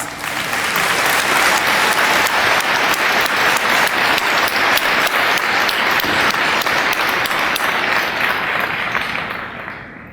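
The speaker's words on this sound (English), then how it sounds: "This is a tremendous accomplishment for our graduates and deserves a round of applause" A large graduation ceremony crowd applauds Phi Theta Kappa graduates, dense loud clapping sustained steadily throughout before tapering off at the end.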